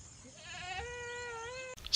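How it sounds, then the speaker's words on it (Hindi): A goat bleats once in a long, wavering cry that rises and holds steady, fairly close and clear against a quiet background, ending with a brief burst of noise. "ये है बकरी"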